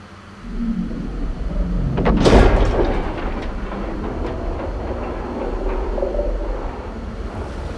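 A heavy vault door in Star Wars Battlefront II grinds and rumbles open, swelling to a loud booming peak early on and then settling into a long, low mechanical drone with no voices.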